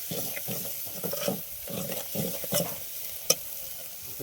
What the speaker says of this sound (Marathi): आणि याला हलवून घेऊ